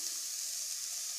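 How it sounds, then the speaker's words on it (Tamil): Carrots sizzle steadily in a hot pan, a close, constant frying hiss with no talking. "கேரட்டை போட்டு கொஞ்சம் நல்லா வதக்குங்க"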